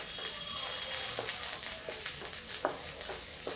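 Garlic and green chilies sizzle and crackle steadily in hot oil in a pan for a home breakfast of pumpkin curry, with occasional stirring scrapes, close and continuous, with no talking.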